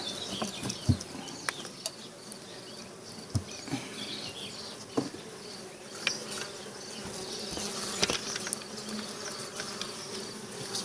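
Honey bees buzz around an open beehive, a steady close insect drone with individual bees zipping past the microphone in brief louder passes, no talking heard.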